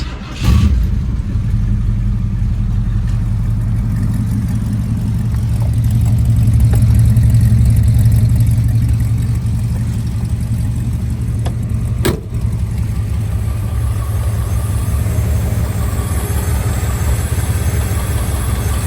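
A 1969 Ford Torino's engine starts with a brief crank and then idles smoothly and steadily up close. The pitch swells slightly once, and a faint click sounds partway through.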